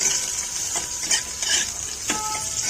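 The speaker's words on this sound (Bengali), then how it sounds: "কাজু কিশমিশটা একটু রোস্ট করে নেব" Cashews and raisins roast in a pan with a steady low sizzle and a few soft scrapes of stirring, close and continuous with no talk.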